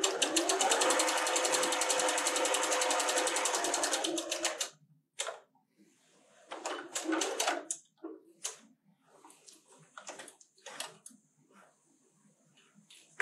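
A sewing machine with a quarter-inch foot runs steadily for about four seconds, stitching a seam on a friendship star quilt square. Short bursts of stitching and small mechanical clicks and handling noises follow, close up with no talk.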